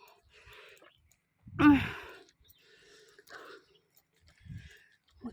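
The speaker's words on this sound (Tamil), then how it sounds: "மூச்சு வாங்குது." Someone climbing to a hilltop temple breathes heavily and is out of breath, with a loud sighing exhale close to the mic and softer breaths before and after it.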